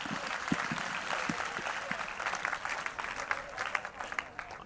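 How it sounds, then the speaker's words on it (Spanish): An audience at a neuroscience talk on brain imaging applauds the speaker Rafael, a steady, moderately distant round of clapping that continues evenly without talk. "Un aplauso para Rafael."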